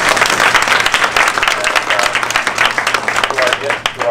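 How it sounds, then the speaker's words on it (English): A large audience breaks into dense, sustained applause at a formal event with the Secretary of the Interior, the clapping loud and continuous throughout, with a faint steady hum beneath it. "Give her a round of applause."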